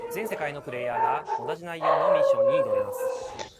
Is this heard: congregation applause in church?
no